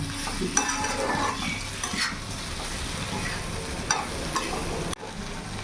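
Okra and potato sizzle and fry steadily in a pan while a spoon stirs and scrapes through them, with occasional clinks against the metal.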